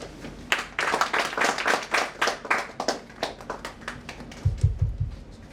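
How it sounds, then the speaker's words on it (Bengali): An audience at a seminar held by a jobs coaching academy claps together in a lively burst of close, rhythmic hand claps that taper off, with a few heavier taps near the end. "সবাই একটু জোরে হাততালি দাও।"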